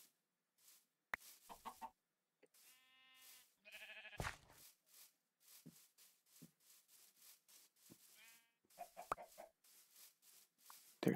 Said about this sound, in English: There's way too many sheep.